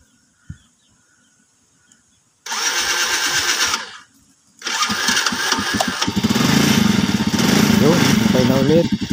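A car engine cranks on its starter in two bursts, the second catching into a running engine that settles to a steady idle, with a quiet voice at the start.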